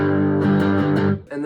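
Heavily distorted electric guitar riff, thick sustained chords ringing loud and close, briefly cutting off before another chord hits.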